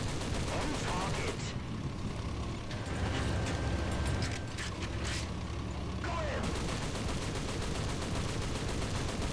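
A Japanese tank's stubby machine gun fires in a video game: dense mechanical rattling and clanking bursts over a steady loud bed of game noise, with a brief high whine partway through.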